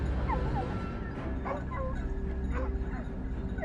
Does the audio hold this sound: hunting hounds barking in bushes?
yes